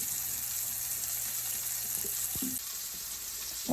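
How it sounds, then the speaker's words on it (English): A beef roast sears in a cast iron skillet with a steady, close hiss of hot fat, broken by a couple of brief knocks and scrapes, with no talking. "So we're going to let this sear on this side for the same amount of time."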